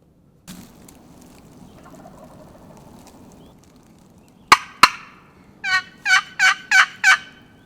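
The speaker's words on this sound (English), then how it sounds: "This bird continues to work away from us, gobbling sporadically, along with several other birds." Wild turkey gobblers in the Kentucky mountains, with two sharp calls followed by a run of four loud, rattling gobbles in quick succession over quiet woodland ambience.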